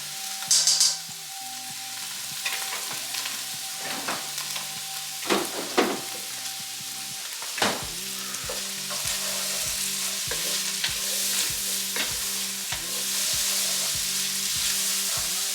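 Onion and garlic fry in a pan for pork curry, a close crackling sizzle broken by scraping stirs and spoon clinks, settling into steady frying.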